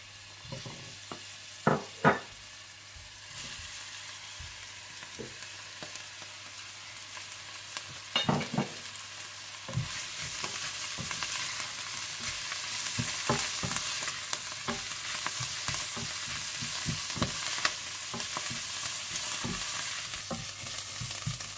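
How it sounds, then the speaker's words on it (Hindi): Steady sizzling of onion, celery and garlic sautéing in olive oil, with occasional stirring scrapes and clinks of a utensil against the pan; continuous and close, no speech. "प्याज, सेलरी और लहसुन के जवे डालकर 3 से 4 मिनट के लिए सौते कर लीजिएगा"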